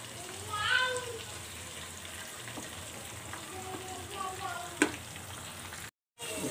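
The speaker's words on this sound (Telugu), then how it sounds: "పచ్చిమిర్చి వేసుకొని కొంచెం ఫ్రై చేసుకుందాం" Green chillies fry in hot oil with a soft, steady sizzle, a brief scrape or tap partway through and a short dropout near the end, with no speech.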